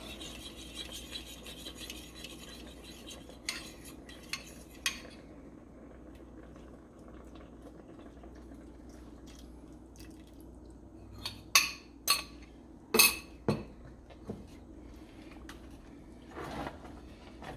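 Spoon stirring a cornstarch-and-water thickening mixture for coconut buko pie filling, a soft steady scraping rasp in a bowl with a few sharper clinks of the utensil against the side near the end.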